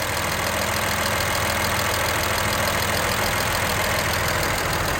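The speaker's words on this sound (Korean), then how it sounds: "에어컨 냉각을 위해서 전동팬이 작동을 하고 있습니다" A Kia Mohave engine idles with the hood open and air conditioning on, alongside the constant whir of an upgraded Bosch 600 W brushless electric cooling fan, a dense, unchanging mechanical drone throughout.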